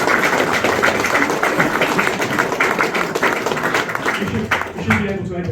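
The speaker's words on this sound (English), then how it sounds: "Give yourself a round of applause." An audience breaks into a round of applause, a dense, steady wash of many hands clapping that carries on for several seconds before thinning out near the end, with a voice briefly audible at the close.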